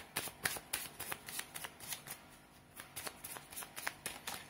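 Tarot cards are shuffled by hand up close, a quick run of crisp riffling slaps in an even rhythm, quiet and alone without talk.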